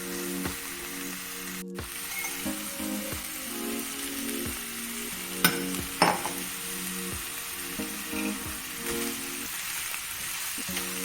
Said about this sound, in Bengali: স্টার ফ্রাই করে নিচ্ছি।